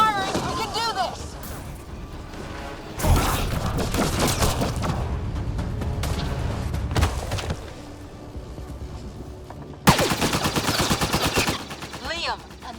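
Sustained automatic gunfire in Mass Effect Andromeda, with dense rattling bursts broken by short pauses and loud impacts, the shooting close and heavy, while voices shout over the combat.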